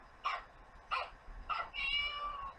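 A recorded cat meowing from a children's sound book, three short electronic meows in steady succession followed by a longer drawn-out one, moderately quiet and alone.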